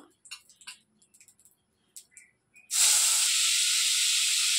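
Sliced carambola goes into hot mustard oil with fish and seeds already in the pan, setting off a sudden loud, sustained sizzle after a few soft clinks, close up.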